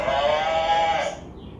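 A cow moos in a kids' farm animal video, giving one long, steady, fairly close call of about a second before it fades into a quieter tail.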